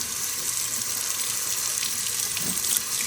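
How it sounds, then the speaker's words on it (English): Hot water from a kitchen faucet running through a dishwasher filter, a steady close hiss and splash that stays constant throughout, with no voice. "And you wanna run the water through this backwards."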